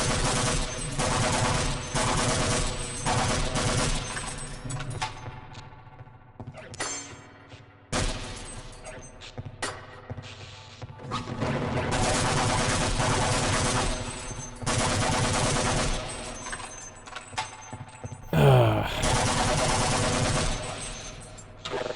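Shotgun blasts and heavy weapon fire in a first-person shooter, loud dense bursts broken by short pauses and a sharp metallic clank near the end, no speech over it.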